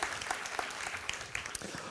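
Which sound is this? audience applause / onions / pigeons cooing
audience applause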